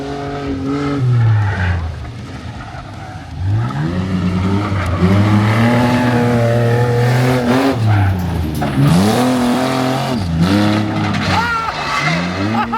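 Off-road race car driving on dirt with a debeaded tire at the Freedom Factory, engine revving and falling through repeated pulls, loud and close with scrabbling tire noise and a person talking over it.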